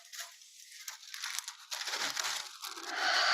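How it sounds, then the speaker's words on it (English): A sheet of paper is laid down onto a touch drawing board, making soft crinkling and rustling that swells to a broad papery hiss at the end, close and alone. "I love the sound of the paper as it sort of floats down on the page."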